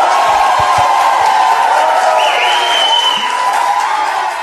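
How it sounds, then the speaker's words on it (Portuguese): Loud, dense applause from a crowd, a continuous wash of clapping with a faint cheer or whoop rising briefly partway through. "Cadê as palmas?"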